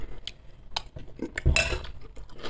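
A spoon clinks and scrapes against a dish in several sharp, close taps while someone eats a vegetable salad with beans, with soft chewing sounds between the clinks.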